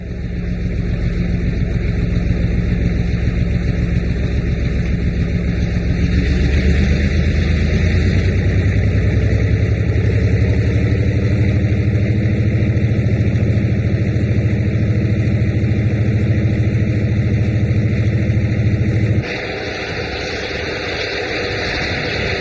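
Burlington Northern E-unit diesel locomotives accelerate past coach yards in 1991, a loud, steady engine roar that deepens and builds midway, then drops in level near the end, with no talk.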